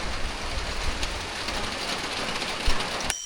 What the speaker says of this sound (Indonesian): Dan masih hujan terus.